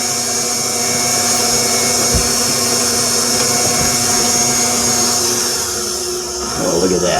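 An electric hand mixer creams sugar cookie dough for Amish sugar cookies, a steady close whirring motor drone running throughout, shifting in pitch near the end as the beaters work the mix.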